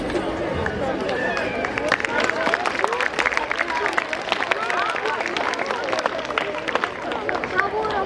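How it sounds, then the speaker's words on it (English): Audience applause at a school Republic Day celebration, steady clapping from a crowd mixed with chatter and lively background voices, continuous and moderately close throughout. "A big round of applause."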